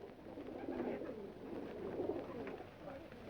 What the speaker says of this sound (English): Nancy, are you positive you saw that pigeon stop at this house?